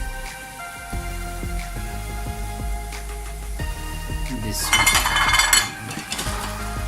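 Chicken pieces added to a pot of spiced shorba gravy and stirred, with a metal spoon scraping and clinking against the pot in steady strokes and a brief louder sizzling, splashing stretch near the end.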